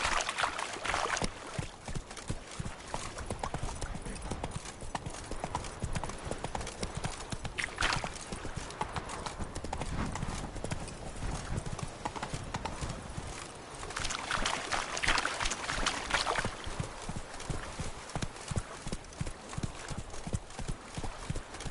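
Roach, Geralt's horse in the video game The Witcher 3, gallops with rapid, rhythmic hoof clip-clops that run continuously and fairly close throughout.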